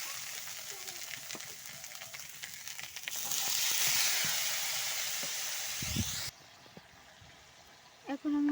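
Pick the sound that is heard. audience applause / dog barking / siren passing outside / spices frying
spices frying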